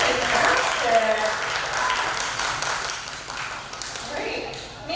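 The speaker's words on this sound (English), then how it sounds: "Give Mandy a round of applause, everybody." An audience applauds a pinup contestant at a pinup contest, with steady dense clapping that fills the clip while a presenter keeps talking over it.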